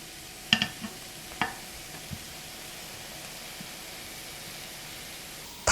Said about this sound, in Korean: 팬에 가지를 모두 넣어줄게요